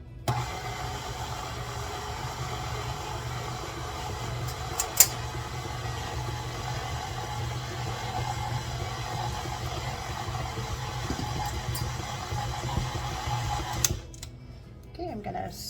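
An electric mixer hums steadily at a low, even drone while mixing chocolate chip cookie dough, with a few faint clicks. It stops near the end.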